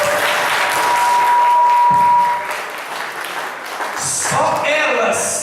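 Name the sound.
applause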